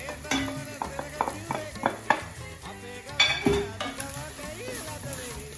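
Sri Lankan curry powder, chilli and curry leaves are stirred in a pan for prawn curry, giving close, rhythmic scraping strokes with a soft sizzle and occasional utensil clinks, with background sound underneath.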